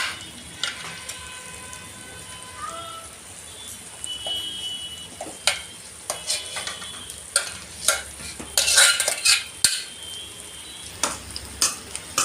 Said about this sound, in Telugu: ఇలా అయితే బాగా కలుపుకోండి రైస్కి పట్టేలా.